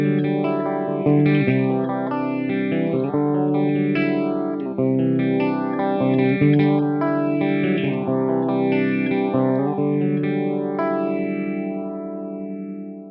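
An electric guitar plays continuous chords through an FX Maniac Univibe-style effect with the intensity turned down, giving a loud, lush, swirling chorus with a steady pulsing sweep. No one speaks.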